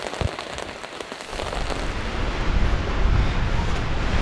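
Rain falls on a tarp shelter at a wet-weather camp, a dense steady patter that swells louder partway through and carries on close by.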